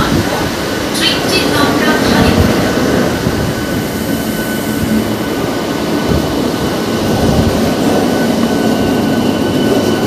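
A Howrah local train arriving at Belur Math station, a loud, steady rumble and roar of the carriages heard from on board, with a faint tone and some background voices.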